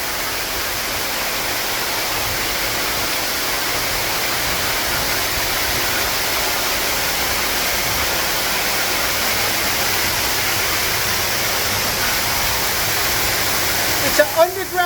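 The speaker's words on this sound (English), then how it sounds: "It's an underground 20-foot waterfall." An underground waterfall about 20 feet high roars inside a cave in New Hampshire. It is a constant, enveloping wash of falling water that holds steady throughout, with a few brief knocks right at the end.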